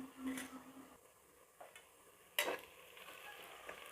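Onions sautéing in a pan for mutton biryani make a faint, soft sizzle with a few sparse utensil scrapes and one sharper clank against the pan, close but quiet, with no talking.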